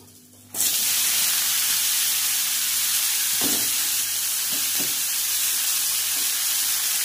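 Chili dropped into hot mustard oil in a pan sets off a sudden loud, steady frying hiss that continues close by, with a few faint clinks over it.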